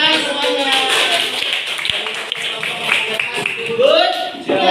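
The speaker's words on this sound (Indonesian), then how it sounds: "Tepuk tangan semuanya." A class of schoolchildren claps together, a dense, fairly loud patter sustained throughout with children's voices mixed in over it.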